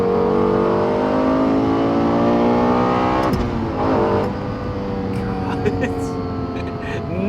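Lexus LFA 4.8-liter V10 sports car engine revving hard up close, a loud, continuous high-pitched howl with rising and falling pitch that sustains throughout.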